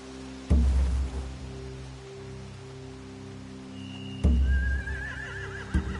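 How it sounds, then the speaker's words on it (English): Horses neigh and whinny loudly in The Walking Dead video game, two sharp close calls with a third brief one near the end, over a steady low ambient hum with a faint high tone drifting in. "They have horses."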